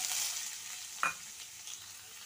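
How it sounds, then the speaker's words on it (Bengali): Onions dropped into hot oil with cumin seeds in a kadai for egg curry, giving a steady close sizzle with a brief louder burst as they hit the pan, then stirring; no talking. "জিরেটা গরম হয়ে গেছে, তো পেঁয়াজটা দিয়ে দিলাম।"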